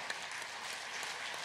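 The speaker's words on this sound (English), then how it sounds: "Another round of applause for" Applause from the audience at the Africa Climate Summit 2023, honouring a head of state's national statement: a steady, diffuse wash of many hands clapping, fairly faint and distant throughout, with no talk over it.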